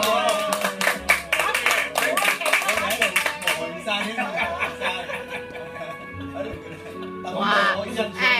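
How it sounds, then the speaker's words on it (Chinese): Party guests clap in scattered bursts amid chatter and light laughter, with background music and voices running throughout. "请大家鼓掌"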